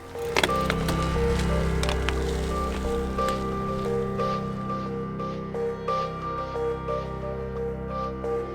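River water flows across a mountain road in Tajikistan, a continuous rushing and gurgling wash heard up close, with occasional splashes and creaks over the steady flow.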